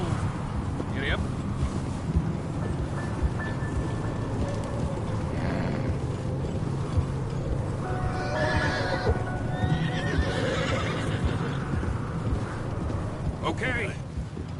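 A horse gallops in the video game Red Dead Redemption 2, with continuous clip-clop hoofbeats, a whinny and snorts over wind noise, and a voice briefly heard.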